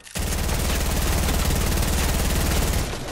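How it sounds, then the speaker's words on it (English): Sustained automatic gunfire in the Fortnite battle royale game, a rapid, continuous rattling burst lasting about three seconds, loud and close, with no voices over it. "One guy over there shooting us."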